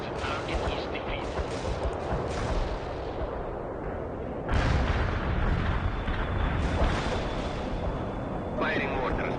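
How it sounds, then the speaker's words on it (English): Sustained artillery barrage in the World in Conflict strategy game, a dense rumbling wash of overlapping blasts that swells louder midway and rolls on steadily, with radio-style voices talking over it. "Firing orders. The barrage will reach you soon."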